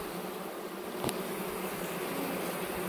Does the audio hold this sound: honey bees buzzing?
yes